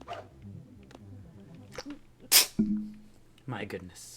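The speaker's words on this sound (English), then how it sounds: "The sneezes just sneak up on you." A person sneezes once, a sharp loud burst in a room during a Sonic Adventure 2 Chao Garden game stream, surrounded by casual talk before and after.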